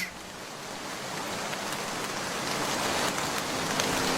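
Rain falls steadily as a soft, even hiss, with scattered drops pattering on surfaces close by.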